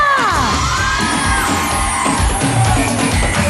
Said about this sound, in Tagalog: Ang lakas ng cheer!